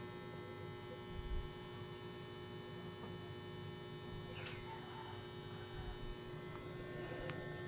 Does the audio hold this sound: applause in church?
no